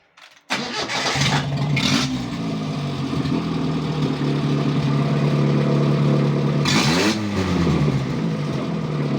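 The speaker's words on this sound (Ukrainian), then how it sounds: "заведе тракторця" A small engine on a homemade tracked mini tractor cranks and catches, then runs at a steady loud idle, with a brief rev near the end.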